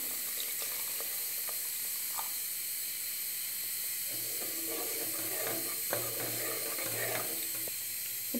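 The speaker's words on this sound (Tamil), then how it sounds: "இதில் 1 டம்ளர் தண்ணீர் ஆட் பண்ணிக்கலாம்." A tumbler of water poured into simmering tamarind curry made with manathakkali greens, giving a steady hiss and sizzle with faint bubbling and pouring sounds, close and continuous.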